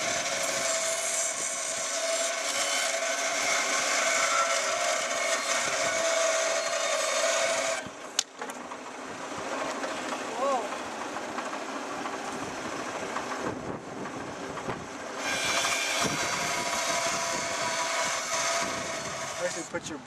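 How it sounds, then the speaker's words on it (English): A blade scraped steadily along wood while shaping a stickball bow at an outdoor workshop, a continuous rasping, fairly loud and close, with a short break near the middle and talk around it. "blade straight up and down and just scrape"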